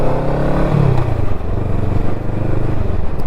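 A motorcycle pulls away from a junction on a hill in first gear, its engine loud and close as revs rise and fall through the gear change, with wind buffeting the microphone.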